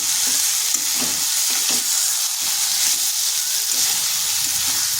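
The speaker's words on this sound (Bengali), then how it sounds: "আলু আর পটলকে একসঙ্গে এইভাবে একটু ভাজা ভাজা করে নিয়েছি" Potato and pointed gourd stir-fried together in a pan give a steady, close sizzle with a broad hiss, while a spatula scrapes and clatters in soft irregular strokes throughout.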